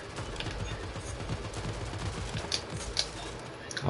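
Video game gunfire from a player shooting through a box, a steady dense rattle of rapid shots with a few sharper cracks standing out, fairly quiet and continuous with no talk.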